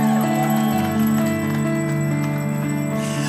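A bell sound effect rings out over steady sustained background music, with bright bell tones sounding repeatedly and loudly at the front of the mix.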